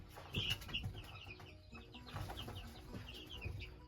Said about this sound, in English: These are our newest chicks.